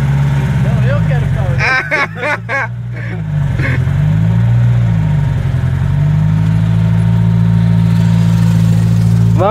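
A 1982 Chevrolet Opala Standard four-cylinder engine idles with a steady low rumble, close by, while people talk over it.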